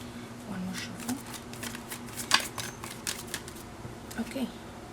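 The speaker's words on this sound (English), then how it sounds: "One more shuffle." Soft riffling and flicking of tarot cards being shuffled, a few quick bursts over a low steady hum with faint talk in the background.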